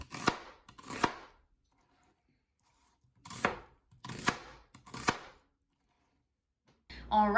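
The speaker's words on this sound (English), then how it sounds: "Roughly chop your peppers and de-seed." Knife chopping ají dulce peppers on a cutting board: sharp, close chops in small clusters of two or three with quiet gaps between, ending with a louder clatter.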